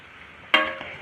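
Fresh turmeric frying in ghee in a pan, a low steady sizzle that jumps to a louder burst of crackling midway, likely as it is stirred, then settles back to a soft fry.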